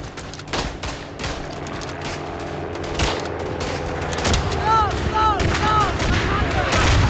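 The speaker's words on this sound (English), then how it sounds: "I'm in the middle of an artillery strike." Artillery strike in the video game Verdun, with heavy booms and bursts of gunfire rolling in near and far, plus whistling shell sounds toward the end, all over a steady battle din.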